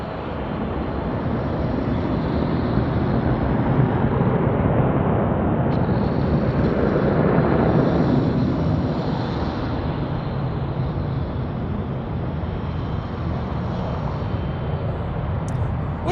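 Airplane at Denver International Airport, a loud continuous jet roar swelling and fading steadily across the clip with no talk.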